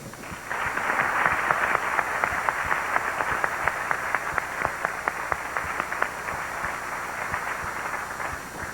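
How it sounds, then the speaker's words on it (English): Audience applause at the Miss Illinois pageant, a sustained wash of many hands clapping that swells quickly, holds steady with sharp individual claps poking through, then slowly thins toward the end. "Please join us now in a round of applause for the folks who legislate here in Oak Brook Terrace."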